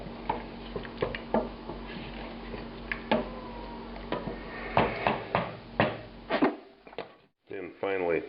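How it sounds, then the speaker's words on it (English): A spoon stirs a thick, slow-simmered beef curry with pomegranate seeds and mint in a pot, making irregular close scrapes and clinks against the metal, with a voice briefly at the end. "Give it another stir."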